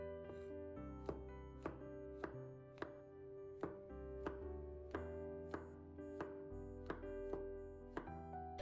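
A knife cuts mushrooms into thick slices on a board, about a dozen crisp, evenly spaced chops close by, with steady background music.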